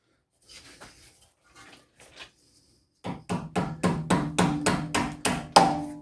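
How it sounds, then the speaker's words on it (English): Repeated sharp hammer blows on metal, about a dozen evenly spaced strikes growing louder, following a few quieter taps and a short pause, as a part is hammered into place during an Audi A4 B7 rear brake job. "pretty much hammer that in, I guess"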